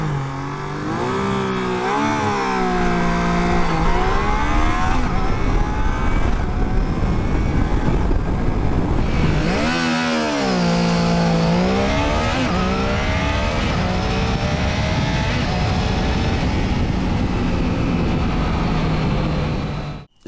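A 2021 Triumph Trident 660 mid-size motorcycle accelerates hard from a standstill to 100, its engine note climbing through the gears in rising sweeps with brief dips at each shift, loud and continuous without talk.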